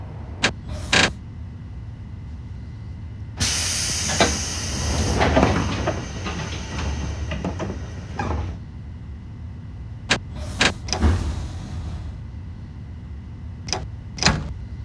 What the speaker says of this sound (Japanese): 4番線ドアが閉まります、ご注意ください。